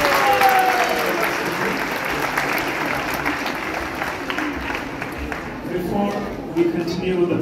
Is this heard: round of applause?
yes